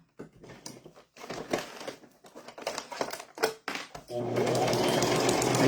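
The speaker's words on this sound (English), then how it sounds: "And just take your time and sew all the way around." A sewing machine stitches fabric for a gingerbread girl gift bag, running in short bursts, then a long steady loud whir of continuous stitching close to the microphone.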